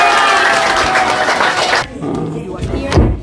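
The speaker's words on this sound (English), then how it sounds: "Let's give a big round of applause of gratitude to God." A large congregation at a Korean spiritual gathering applauds and cheers in a loud, dense burst lasting almost two seconds, then drops to scattered claps and murmuring voices.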